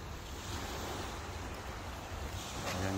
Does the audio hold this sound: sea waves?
yes